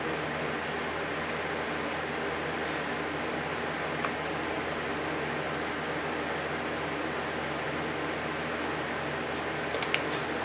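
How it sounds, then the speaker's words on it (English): Steady broadband whir of an electric fan running in a hot workshop, continuous and even throughout with a few faint ticks near the end. "Sorry about the noise. It's a fan."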